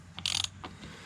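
Ratchet fitted with a small extension turning a screw, giving a quick, faint run of ratcheting clicks lasting well under a second.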